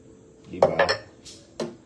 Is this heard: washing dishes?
yes